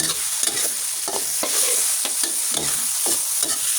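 Salted fish stir-fried in a very hot pan with seasoning powder and oyster sauce, giving a steady loud sizzle broken by repeated scraping strokes of the spatula at a regular rhythm, close and alone with no voices.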